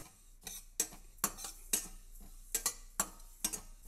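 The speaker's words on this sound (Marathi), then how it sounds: "तीळ सतत हलवावे त्यामुळे ते छान भाजतील तडतड आवाज येत आहे" Sharp, irregular crackles and ticks of sesame seeds roasting in a pan, popping in quick clusters, close and fairly quiet.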